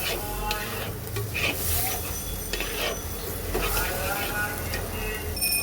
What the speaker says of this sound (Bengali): চলো মশলাটাকে একটু হালকা ভেজে নেই